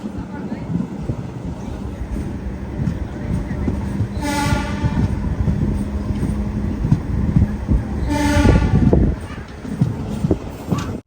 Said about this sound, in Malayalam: നാഗൂർ റെയിൽവേ സ്റ്റേഷനിലേക്ക് നമ്മുടെ ട്രെയിൻ എത്തിയിരിക്കുകയാണ്